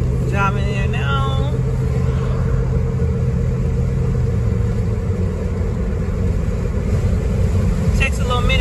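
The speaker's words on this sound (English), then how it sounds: "I'm driving now." Inside a moving car, a steady low engine rumble and road noise run throughout, with a voice speaking briefly near the start and end.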